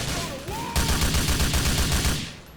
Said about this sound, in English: Guns like the assault rifles,